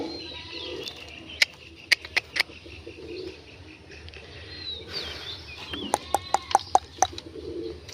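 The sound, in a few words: fancy pigeons cooing in a loft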